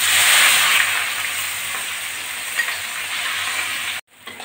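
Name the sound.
frying onions and garlic in oil in a wok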